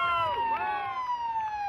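A St John Ambulance siren wails loud and close at a Pride parade in Auckland, its tone sweeping down and back up over a faint crowd murmur.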